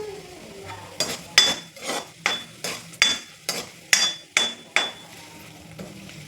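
Chillies are stirred in a cooking pan for a mango pulissery, a spatula knocking against the metal in a steady series of about ten sharp scraping clacks, close and loud, over a faint sizzle.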